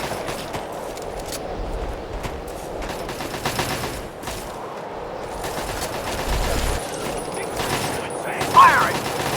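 Sustained gunfire in the Fallout 3 Operation Anchorage battle, a dense crackling fusillade of shots at moderate distance, steady throughout with brief denser flurries, with faint voices mixed in.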